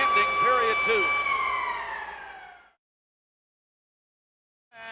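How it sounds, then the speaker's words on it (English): A loud sustained goal siren ends a period of an ice hockey game at the 1989 Stanley Cup Finals, Flames at Canadiens. The long horn fades out into silence, with crowd noise underneath, and then the siren starts again briefly. "He's right, the siren goes, ending period two."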